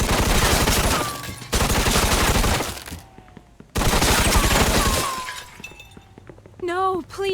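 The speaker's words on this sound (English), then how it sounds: "have a Tommy gun at least, though I'm probably going to go through most of the ammo here" Tommy gun fire in Mafia 2, long rapid automatic bursts with glass shattering amid the shooting, loud and close, broken by brief pauses and a short tonal sound near the end.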